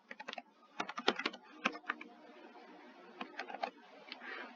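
Code being typed on a computer keyboard, close and clear: irregular bursts of key clicks with brief pauses between them, no talking.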